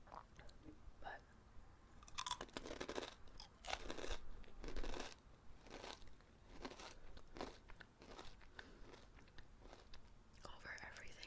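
Close, quiet crunching and chewing of crunchy peanut butter Reindeer Chow, with repeated bites and soft mouth sounds in an irregular rhythm, faint and intimate.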